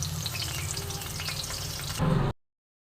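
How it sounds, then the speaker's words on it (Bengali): Thick-cut potato strips fry in a pan, a dense even sizzle with faint stirring crackle that swells louder near the end before cutting off abruptly. "তো আলুটা একটুখানি ভেজে নামিয়ে নেব।"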